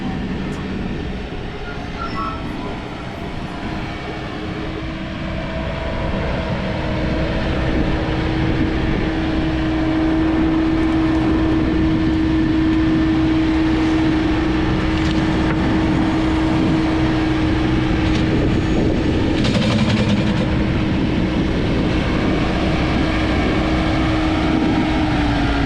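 A TYM T4058PC tractor working in a stock tank, dropping a load of clay and inching forward, gives a steady close engine drone with a sustained tonal hum that grows slightly louder partway through, no talk over it.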